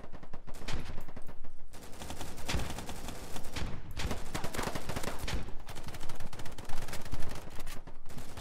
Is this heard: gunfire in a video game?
yes